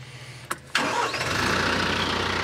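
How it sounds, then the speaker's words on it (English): After a couple of clicks, a tractor engine cranks and catches, then settles into a steady, loud rumbling idle. "First thing we're gonna do is we're gonna start the tractor up."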